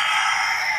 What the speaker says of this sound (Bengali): আমাদের মোরগটা চিল্লাইতেছে